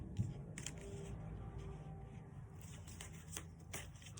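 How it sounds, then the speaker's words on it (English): Oracle cards are shuffled by hand during a reading, giving a soft, continuous papery riffling with a few brighter flicks, faint and close, with no talk over it. "Let's pull some more cards."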